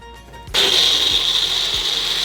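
A mixer grinder switches on abruptly and whirs loudly and steadily, blending soaked sabudana and bhagar with curd, a high motor whine holding close and constant after a short quiet lead-in.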